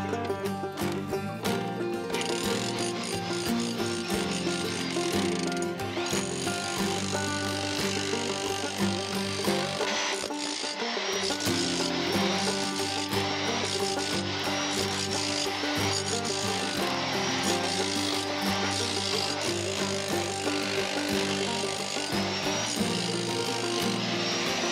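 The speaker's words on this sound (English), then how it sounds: "let's get the hammer drill out and get started." A hammer drill drives steadily into the ground for a long, continuous stretch of loud grinding and rattling, with a dense mechanical hum, close by and without a break.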